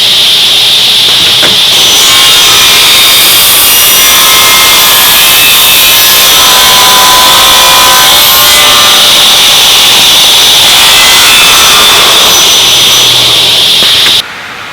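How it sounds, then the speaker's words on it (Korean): Large circular saw fitted with a 3T-thick blade cutting aluminum, a loud, continuous high-pitched whine and grinding screech held for about thirteen seconds before the motor cuts off abruptly. "3T 톱을 체결을 했고 한 2번 절단을 해 보도록 하겠습니다"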